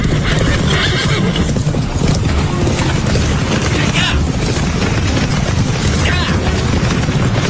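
Horses neigh and gallop in a dense, loud, continuous mix of whinnies and pounding hooves, with a mechanical clatter and voices mixed in.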